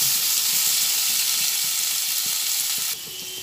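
Potatoes and papad frying together over a low flame produce a dense, even hiss of hot oil, close and constant, dropping slightly in level near the end, with faint stirring and no speech.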